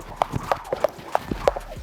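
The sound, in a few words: feet stamping while jumping rope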